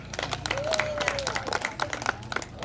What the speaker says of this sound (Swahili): Makofi sana kwenye hii meza.